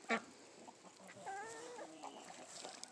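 Roosters clucking and calling in a small enclosure, with a sharp burst at the start and continuous murmuring fowl noises throughout.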